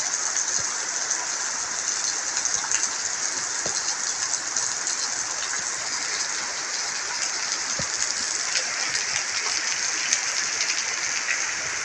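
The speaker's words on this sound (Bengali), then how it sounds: "বেশ বৃষ্টি ভালোই হচ্ছে আলহামদুলিল্লাহ।" Heavy rain pours down in a dense, steady hiss, with occasional louder drops striking a surface nearby.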